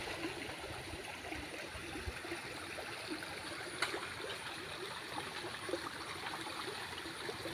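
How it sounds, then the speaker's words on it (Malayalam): A rain-swollen river rushes strongly past the edge of a forest, a steady wide roar of flowing water heard alone at moderate distance, with faint splashes and trickles throughout. "കാടിൻ്റെ സൈഡിലൂടെ ഒഴുകുന്ന പുഴയാണ് കേട്ടോ"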